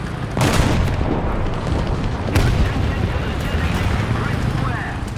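In the War Thunder tank game, 30 cal machine guns fire amid heavy battle noise, with sharp loud bursts and booms standing out over a dense, continuous rumble of combat.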